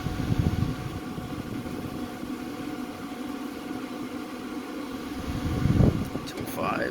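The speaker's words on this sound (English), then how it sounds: "The auger kicked in" A Pit Boss 1150 pellet grill's auger runs with a steady low mechanical hum and whir close by, a few brief thumps and rattles rising over it near the start and end, with a voice talking over it.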